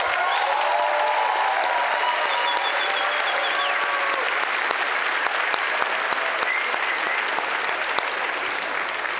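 At a gastronomy awards gala, a packed room applauds loudly and continuously, with faint whistles or cheers rising above the steady clapping early on.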